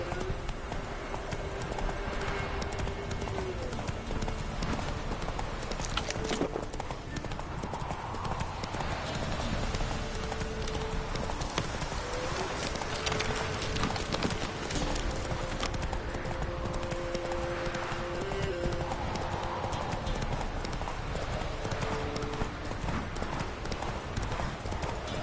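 Hooves of a horse clip-clop steadily at a gallop in The Witcher 3 video game, close and continuous over ambient game sound and music, with a brief whinny.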